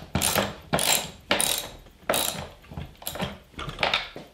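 Ratcheting screwdriver, modified with a narrow tip, tightening the screws of a woodworking glue jig: six sharp ratchet-click bursts in an uneven rhythm, close and fairly loud, with no talking.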